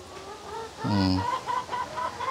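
Chickens on deep litter bedding in a Cebu farm coop cluck close by, with a louder squawking call in the middle and scattered shorter clucks after it, over a quiet farmyard background.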